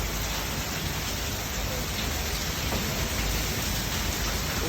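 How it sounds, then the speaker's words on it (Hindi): Heavy rain with hail pours down in Lahore with wind, a dense, steady hiss that stays loud and close and unbroken throughout. "लाहौर में इस वक्त शदीद बारिश हो रही है और ओले पड़े हैं"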